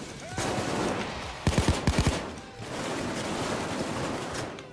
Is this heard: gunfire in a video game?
yes